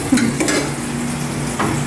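Onion for pork adobo sizzles loudly in a hot pan as it is stirred, with a few clattering utensil scrapes over the continuous frying hiss.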